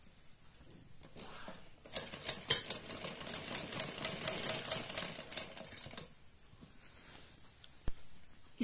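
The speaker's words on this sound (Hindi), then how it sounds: "हम बिल्कुल इसके किनारे किनारे पर इस तरह से इस पर सिलाई लगाते चले जाएंगे" A sewing machine stitches piping along the edge of baby-dress fabric, a fast, steady mechanical whirring run of about four seconds between short quiet pauses with light clicks.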